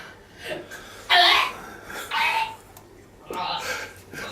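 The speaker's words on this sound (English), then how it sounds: "Can you stop the comedy vomiting now? It doesn't even sound real." A person making exaggerated, fake retching and vomiting noises in short, strained bursts, one loud and the rest quieter, with other voice sounds around them.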